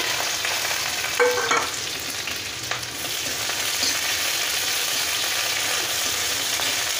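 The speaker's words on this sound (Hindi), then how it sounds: "इन सभी को अच्छे से फ्राई कर लेंगे" Mustard seeds, chili and onion frying in hot oil for poha, a steady close sizzle with a few brief stirring scrapes, no talk.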